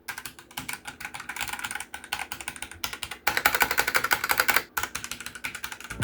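Rapid, close typing on a 65% computer keyboard, a dense stream of crisp key clacks with brief pauses and a louder, busier burst midway, no voices.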